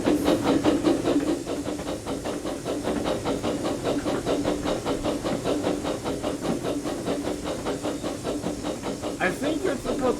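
Miniature steam engine hissing steadily with a rapid rhythmic chuffing beat throughout, close and fairly loud, with no talk over it.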